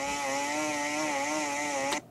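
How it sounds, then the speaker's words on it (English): A chainsaw sound effect runs at a steady, loud, buzzing whine for about two seconds, then cuts off abruptly, alone with no talk. "I'm going to start this with the chainsaw sound effect"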